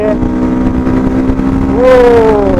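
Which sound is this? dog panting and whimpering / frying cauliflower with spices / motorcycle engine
motorcycle engine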